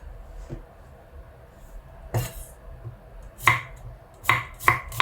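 Knife chopping onions on a cutting board: a few sharp, close chops, sparse at first then quicker near the end, with a faint kitchen background and no talking.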